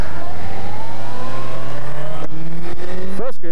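A motorcycle engine accelerates hard through the gears, its rising pitch dropping at each upshift, then revving sharply near the end; loud and close, with no talk.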